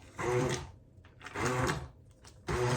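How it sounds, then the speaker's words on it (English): A blender whirs through butternut squash soup in three short pulses, each burst loud and near with brief quiet gaps between. "So I'll get this blended up"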